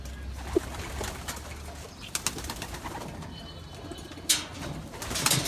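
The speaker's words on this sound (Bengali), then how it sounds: "একটা ফিমেল কবুতর ধরলাম স্টক বাটের।" A female racing pigeon coos softly while being handled, with sudden bursts of wing flapping and rustling up close.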